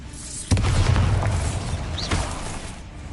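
A Bombarda explosion spell in the video game Hogwarts Legacy, a sudden booming blast that hits hard and then rumbles and crackles for a couple of seconds, followed by a second, duller thump.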